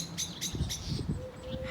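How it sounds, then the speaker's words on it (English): A blackbird calls several times in an April garden, short bright chirps repeating near the start, then fading, with low rustling underneath. "Can you hear that blackbird?"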